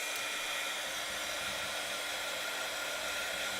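A handheld heat dryer drying ink on a stamped Christmas tag, blowing a steady, even rushing hiss close by with no other sounds.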